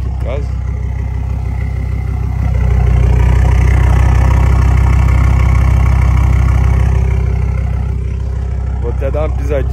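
A Ford Ranger with a turbocharged five-cylinder engine idles nearby, a steady low rumble with pronounced turbo whine that swells slightly after a couple of seconds and holds, running continuously throughout.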